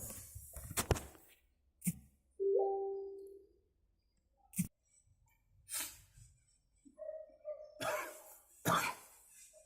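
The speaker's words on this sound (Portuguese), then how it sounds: "Tosse." A few short, sharp coughs scattered across a quiet stretch, with a brief tonal hum and soft shuffling sounds between them.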